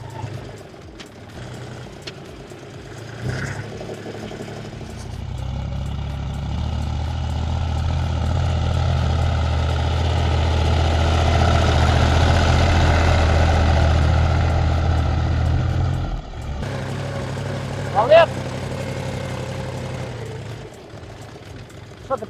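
A Chinese tractor's diesel engine rumbles steadily, growing louder and heavier as it labors uphill without front-wheel drive, then eases off before revving again with a brief whine.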